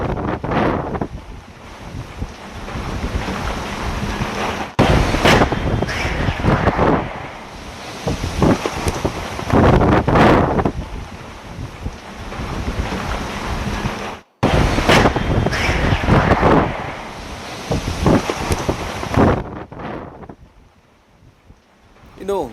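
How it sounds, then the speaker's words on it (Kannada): Strong storm wind blows hard during a cyclone in Uttar Pradesh, roaring and gusting continuously into the microphone with surging bursts and brief dips, then easing near the end. "ಗಾಳಿಯ ಆರ್ಭಟಕ್ಕೆ ಶೀಟ್ ಹಾಗೂ ಸಿಕ್ಕ ವಸ್ತುಗಳು ತರಗೆಲೆಗಳಿಗಂತೆ ಹಾರಿ ಹೋಗ್ತಾ ಇರುವಂಥದ್ದು"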